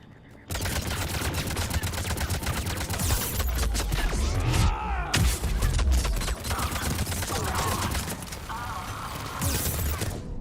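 Turrets in the Mass Effect 3 video game unleash dense, rapid automatic gunfire, a loud continuous clatter of shots with heavy impacts and crashes throughout.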